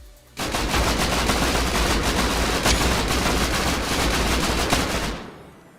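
A loud, continuous barrage of rapid blasts and booms from C4, rockets and grenades during a raid in the video game Rust lasts about five seconds, then cuts off abruptly.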